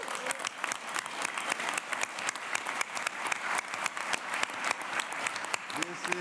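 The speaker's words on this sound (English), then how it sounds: "give them another round of applause" Sustained applause from an audience at a school board meeting honouring outstanding students, scholars, artists and athletes; dense, steady clapping from many hands fills the room for several seconds with no talk over it.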